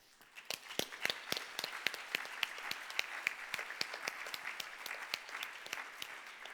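Audience applause at the World Food Forum 2022 closing ceremony in honour of the Food and Agriculture Organization, a crowd of dense, steady clapping that rises quickly and holds evenly, with no talk over it.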